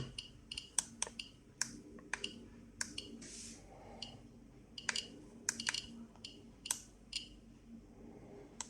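A Geiger counter clicks irregularly, sharp clicks crackling at random intervals, crisp and close, over a faint low background hum.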